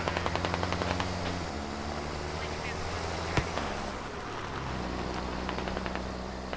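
Rapid bursts of small arms fire in a military video game, dense crackling volleys over a steady low engine drone, with one sharper crack midway.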